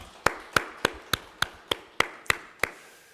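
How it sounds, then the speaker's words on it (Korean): A congregation at a Korean Sunday church service claps together in unison, nine sharp, evenly spaced claps in a steady rhythm, close and clear with no talking over them. "우리 하나님께 감사의 박수하겠습니다"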